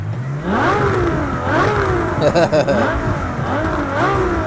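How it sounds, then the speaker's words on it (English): A Ferrari LaFerrari engine in the Project Cars 2 video game revs up and down in a steady, loud drone with rising and falling pitch, briefly clattering midway, with no voices. "The engine sounds really nice."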